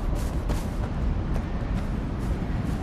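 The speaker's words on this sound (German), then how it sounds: "Schüsse, wie man hört." Gunfire in the open-world shooter Far Cry 4, a dense run of rapid cracks and booms over a loud, constant rumbling background.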